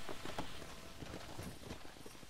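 Hooves of a horse clip-clop in Red Dead Redemption, a soft, steady walking rhythm of repeated hoof strikes at low volume with a faint background hiss.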